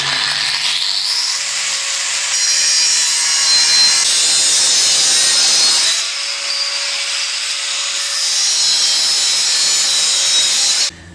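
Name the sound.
angle grinder cutting steel roof bar tubing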